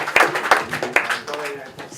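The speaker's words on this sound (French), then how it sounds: "On peut les applaudir." A few sharp, scattered hand claps from players at a board game quiz session stand out against ongoing talk, landing irregularly before the room settles back into speech.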